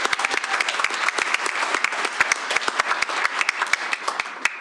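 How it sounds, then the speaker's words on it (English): Applause at a school board meeting honoring an incoming elementary school principal: a moderate crowd claps with many distinct sharp hand claps standing out, steady and sustained the whole time without talk. "Let's give her a round of applause."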